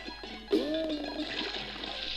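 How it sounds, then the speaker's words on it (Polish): A sari is dipped into holy water in the Pink Panther video game, giving a single splash and gurgling slosh about halfway through that fades into a soft watery trickle over faint background hiss. "Zanurzam sari w świętej wodzie."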